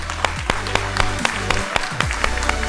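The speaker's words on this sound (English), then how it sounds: "Let's give him a round of applause." At the Paris Blockchain Week 2023 conference, an audience gives scattered, fairly close applause with distinct individual claps, heard over steady tonal background music.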